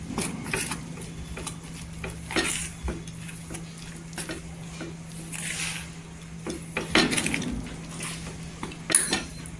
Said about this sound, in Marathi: इथे पाणी टाकायचं, कमीच असं पाणी टाकायचं आणि मिक्स करून घ्यायचं.